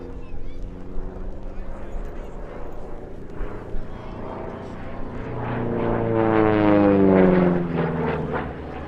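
A P-47D Thunderbolt's 2,300 horsepower Pratt & Whitney Double Wasp radial engine drones at an airshow at RAF Cosford, a steady propeller roar that swells louder and rises in pitch partway through, running continuously throughout.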